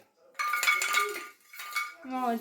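Containers and dishes clink and clatter in a home kitchen while sugar is taken out, a few bright metallic knocks close by with a voice speaking after.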